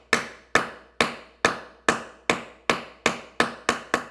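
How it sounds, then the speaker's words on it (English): A hammer strikes a Torx bit, sized one up from the stripped hole, to tap it into the head of a stripped bolt. Nine sharp metallic taps land at an even, steady rhythm, close up and alone. "a Torx bit that's one size larger than the stripped hole, and you want to tap it into place."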